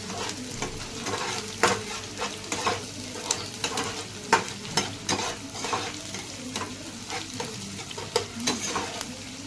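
Green chillies fry in a pan of spiced pomfret fish, with a continuous sizzle broken by frequent sharp stirring scrapes and crackles, close and moderately loud.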